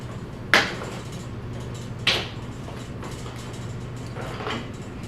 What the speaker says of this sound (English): Torque and lug nuts.